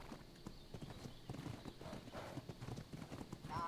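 Horse hooves clip-clopping in the survival video game Ark, a quick steady walking rhythm of soft thuds, fairly faint and close, with no speech over it.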